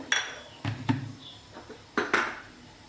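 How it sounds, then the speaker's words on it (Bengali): Mango pulp and sugar being stirred in a wok, heard as about half a dozen separate clinks and scrapes of a utensil against the metal, close and fairly quiet, with gaps between the strokes. "দিয়ে এটাকে এবার একটু নাড়াচাড়া করবো"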